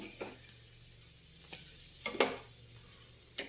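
Grated coconut with coriander powder roasting in a pan over low heat: a soft steady sizzle with a few scattered scraping stirs, quiet and close, no talking.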